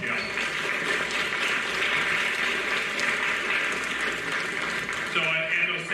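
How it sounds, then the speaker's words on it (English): Audience at an eighth-grade school awards ceremony claps for staff and parents, a full, even burst of many hands lasting several seconds, with some voices and a cheer mixed in near the end. "would you please give the staff and parents a big round of applause?"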